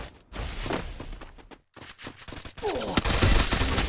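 Rapid bursts of video game gunfire crackle loudly, pausing briefly before another heavy volley of shots and booms.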